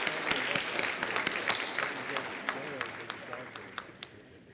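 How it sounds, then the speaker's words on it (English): Audience at a community college scholarship dinner applauding the servers: a sustained patter of many hands clapping at moderate distance, with sharper individual claps standing out, fading slightly toward the end. "giving our hardworking servers a round of applause"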